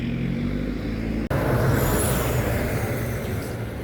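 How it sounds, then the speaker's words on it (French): Loud cars rumble past along a village street in La Plaine des Cafres, Réunion, a steady close roar of engines and tyres with a brief break partway through. "Des voitures qui font du bruit ici, c'est un truc de ouf."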